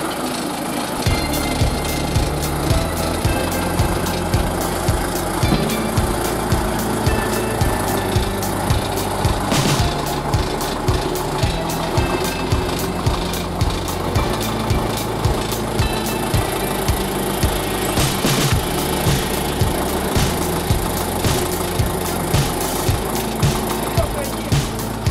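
A tractor engine runs steadily and close by, a rumbling idle with a regular pulsing beat that persists throughout, with some clattering and a person speaking over it.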